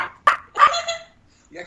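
A person imitates a dog, letting out two or three sharp bark-like yelps close to the microphone, with a short pause between them and brief voice afterward.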